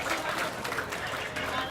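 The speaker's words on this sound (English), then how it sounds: "Let us give them a round of applause" Audience applause at a community development program launch honoring local community businesses, a fairly soft, steady wash of clapping throughout with faint voices mixed in.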